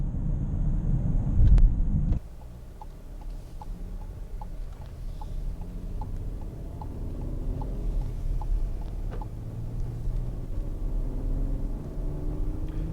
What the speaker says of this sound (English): So as we're driving this beautiful Atlas